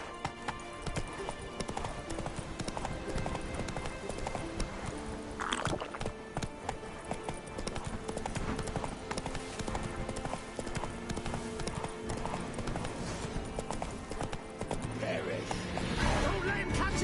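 Roach the horse gallops in The Witcher 3, hooves clip-clopping in a steady rapid rhythm throughout, with game music and a voice speaking over it and a brief whinny.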